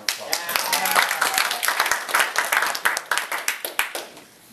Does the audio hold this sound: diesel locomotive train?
no